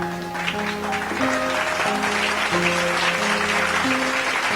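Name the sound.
congregation applauding for Jesus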